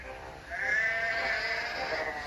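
Sheep bleat close by, one drawn-out wavering cry rising over a soft background murmur, with no talking.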